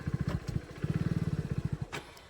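A motorcycle engine idles in a steady low putter, then revs as the clutch is let out. The pulses come fast and close, with a brief rise before it settles.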